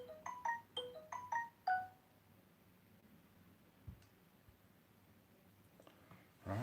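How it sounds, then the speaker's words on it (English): Phone notification chimes: a quick run of about six bright tonal beeps in the first two seconds, then quiet room noise with a soft click and a rustle near the end. "I'm getting all kinds of notifications off this."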